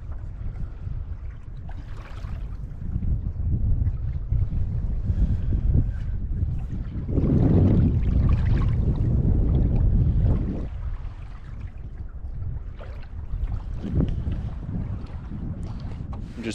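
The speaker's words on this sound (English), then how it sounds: "Just paddling back now." Canoe paddled across a windy lake near an island, steady low wind rumble and water wash dominating, with a louder gusty surge midway and faint paddle splashes.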